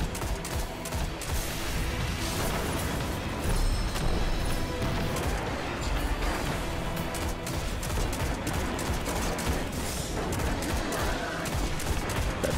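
In the Destiny video game, enemy gunfire pours in at the player as a continuous, dense, loud fusillade of overlapping shots that never lets up.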